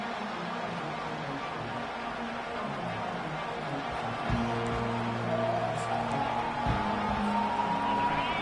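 A dense football stadium crowd at a Notre Dame kickoff roars and cheers steadily, a broad wash of noise with a few sustained tones rising through it near the end.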